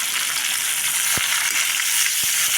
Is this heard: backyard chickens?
no